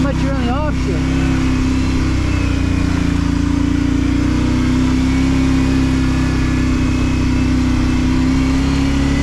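A Kawasaki Brute Force 650 ATV engine running steadily in four-wheel drive on a snowy trail, a loud continuous mid-pitched drone with little change, and a person talking over it.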